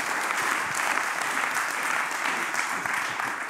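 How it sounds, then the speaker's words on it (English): A lecture audience at a data visualization event in Amsterdam gives a warm round of applause for a speaker, steady moderate clapping from a seated crowd, fairly distant, with no speech over it. "Give him a warm applause"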